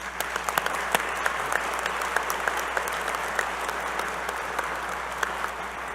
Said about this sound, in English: So let's give a round of applause for our faculty.